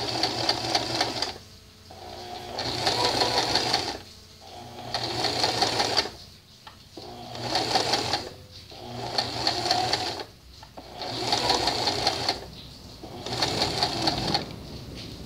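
A home sewing machine stitches fabric in repeated bursts of a few seconds each, its whirring motor starting and stopping in a steady on-off rhythm, close and fairly loud, with no talk in between.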